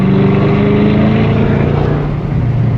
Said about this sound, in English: but this car has stock burbles. It sounds so good.